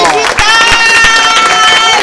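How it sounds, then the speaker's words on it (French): A hall audience at a Women's Day event cheers loudly for the digital team, with high, wavering voices and ululating tones over scattered clapping, close and intense. "On les applaudit très très très très fort."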